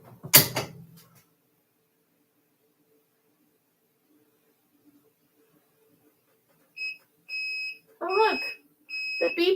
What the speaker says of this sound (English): The beeper's working now.